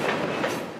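A thundering cargo train rolls past on its rails, a loud, steady rumble with clattering wagon noise and no voices over it.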